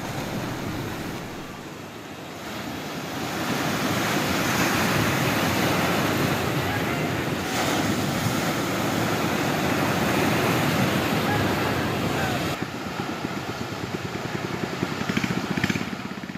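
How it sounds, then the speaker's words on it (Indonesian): Stormy sea with waves over two metres high and strong wind, a steady loud roar of surf and gusting wind noise lasting throughout with no pauses. "Cuaca buruk dan ketinggian ombak yang mencapai lebih dari 2 meter ini mengakibatkan para nelayan tak bisa melaut"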